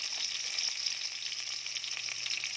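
Onion being stirred and sautéed in a pan for chicken tinola gives a bright, continuous sizzle with soft, regular stirring scrapes and no voices.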